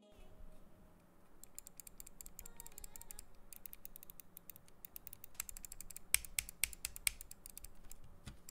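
Crisp, rapid clicking of Frozen Llama gaming mouse switches, irregular bursts of sharp taps, faint and close, with a few louder clicks near the end.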